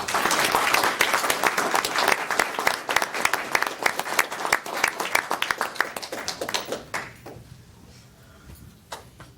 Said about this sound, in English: could we all have a round of applause, please?